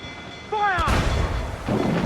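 Ship cannons boom in a naval battle in Assassin's Creed IV, with two heavy blasts about a second apart after a shouted order. The rumble carries loud and close.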